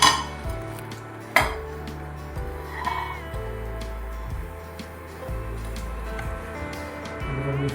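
Boiled, salted, mashed potato and spinach are mixed in a pan, with repeated scraping and clinking of a utensil against the metal, two sharper knocks, and a faint sizzle beneath. No one talks.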